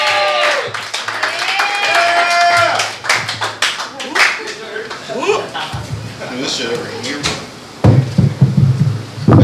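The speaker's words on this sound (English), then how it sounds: "Please clap for Morris Reese." A comedy club audience at Cafe Diem in Richmond, Virginia claps and cheers for the last comic of the night, with sharp claps, whoops and loud crowd noise rising and falling around voices talking.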